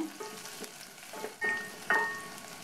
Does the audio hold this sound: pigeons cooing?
no